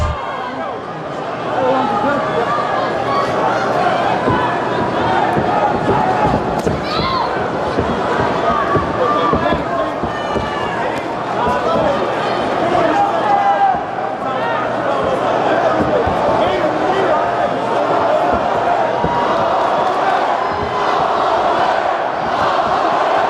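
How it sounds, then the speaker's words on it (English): A loud Atlanta arena crowd roars and chants continuously during the fifth round of a UFC fight between Max Holloway and Dustin Poirier, while a commentator talks over the noise. "Atlanta crowd trying to get behind Max Holloway here"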